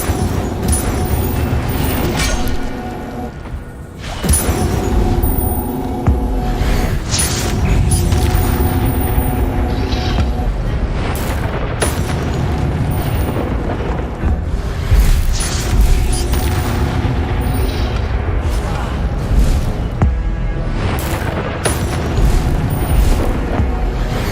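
Incendio fire spell in Hogwarts Legacy: a dense, roaring whoosh of flame with heavy booming bursts, sustained loudly for a long stretch with repeated surges and no talking.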